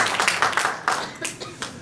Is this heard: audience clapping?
yes